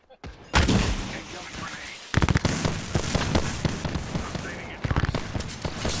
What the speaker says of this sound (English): Thank goodness they were awful shots.